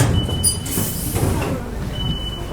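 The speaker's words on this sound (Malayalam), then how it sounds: "നമ്മൾ റെയിൽവേ സ്റ്റേഷനിലെത്തി" At a railway station in France a train rumbles low and close, with a thin high whine and brief mechanical clunks amid busy platform ambience and faint background voices.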